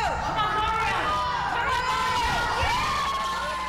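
A crowd of supporters cheers and shouts steadily inside the Walnut Creek YMCA at a bench press fundraiser, with voices, whoops and children's shouts sustained loudly throughout.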